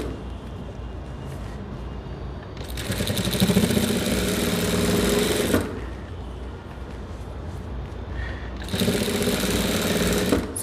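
Sewing machine stitching a blouse, two loud runs of rapid, steady mechanical whirring, each a few seconds long, separated by a quieter pause with faint handling noise.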